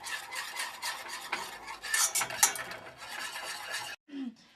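A utensil scrapes and stirs a pot on the stove, a steady rasping rub that keeps going for about four seconds before stopping, then a faint clink.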